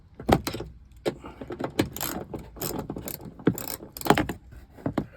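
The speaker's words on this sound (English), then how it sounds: "Take our 10mm socket and remove this panel right here." A 10mm socket wrench working on a trunk panel in a Toyota RAV, heard as close, sharp ratcheting clicks and metallic rattles in irregular bursts with short pauses between.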